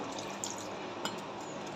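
Plain room-temperature water is poured into an appe batter mix, a soft, brief liquid trickle and splash heard faintly and alone.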